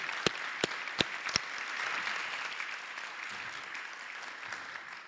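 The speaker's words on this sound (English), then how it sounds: "I'd like to give a round of applause to all of our presenters today." Audience applause for presenters at a justice conference plenary, a few sharp early claps swelling into steady, moderately distant clapping from a seated crowd that continues for several seconds.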